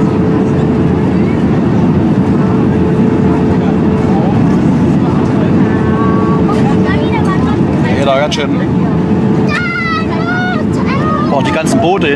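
Motorboats droning in a harbour near hotels, a steady low engine hum running throughout while people chatter nearby and whistle-like tones rise toward the end.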